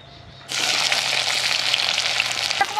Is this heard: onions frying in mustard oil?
yes